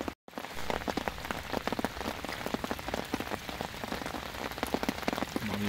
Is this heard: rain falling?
yes